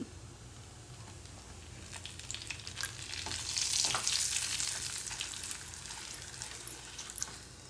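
A spice tempering fries in hot oil for a long-keeping homemade pickle, giving a steady close sizzle that swells in the middle and then settles, with no talking.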